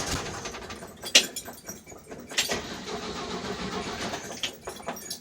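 A 1969 Chevy C10 pickup engine cranks and catches, then idles roughly with a few revs rising and falling nearby, mixed with a brief metallic clink.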